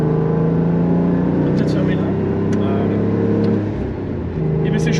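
Renault Clio V6 engine drones steadily from inside the cabin while driving, a loud continuous low hum with engine harmonics, with voices talking over it.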